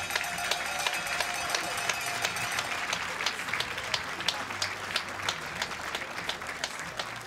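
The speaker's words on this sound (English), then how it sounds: "please give a round of applause for Norway" Audience applause for Norwegian shooter Jenny Steiner, eighth place in the women's 10m air rifle final at the European Championships in Wroclaw, Poland; steady, moderately loud clapping from a crowd in an indoor hall, with a few sharper individual claps standing out.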